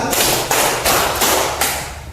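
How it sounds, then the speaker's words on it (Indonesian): Hand clapping in a rhythmic counting game at an elementary school, five sharp, evenly spaced claps ringing close and loud. "tepuk satu, dua, tepuk tiga, empat, tepuk keempat."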